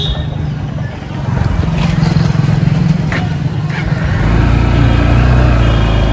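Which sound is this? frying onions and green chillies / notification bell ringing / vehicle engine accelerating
vehicle engine accelerating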